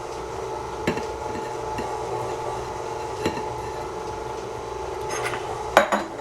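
A spoon stirring tomato sauce with spices for pizza filling in a pot, scattered light clinks and scrapes against the pan over a low steady background, a louder knock near the end, no talk.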